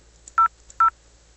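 Two short electronic DTMF keypad tones from a simulated VoIP phone in Cisco Packet Tracer, each a clean, steady dual-pitch beep about a tenth of a second long, separated by a brief pause, with faint clicks between and no talking.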